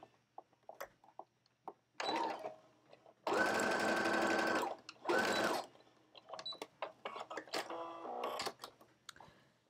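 A sewing machine stitches bias binding onto a 1920s flapper dress, with two loud sustained bursts of running stitches and shorter stop-start runs between them, surrounded by close clicks, handling and fabric rustles.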